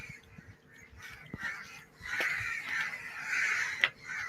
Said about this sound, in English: you just hear all of these crows